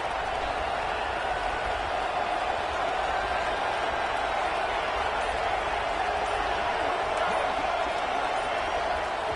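Stadium crowd noise from a college football video game, a dense, loud, continuous roar from a packed road venue on a pressure third down, steady throughout with no lulls.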